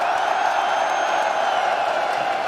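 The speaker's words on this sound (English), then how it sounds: "I said, can you make some noise for me?" Arena crowd at an esports grand final, the PGL Major Antwerp, roaring with sustained cheers and whoops, a dense, steady wall of noise from start to finish.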